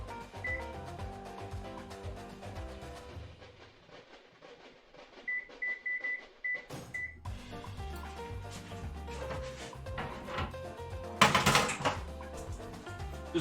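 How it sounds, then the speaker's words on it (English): A kitchen oven is switched on amid clicks and clatter, giving a short run of bright electronic beeps in the middle, followed by a brief loud rustle near the end. "Let's try turning our oven on here."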